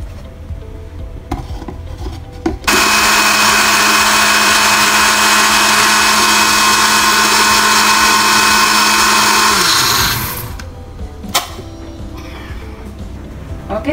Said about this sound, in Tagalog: i-blend na natin ang ating broccoli na niluto kanina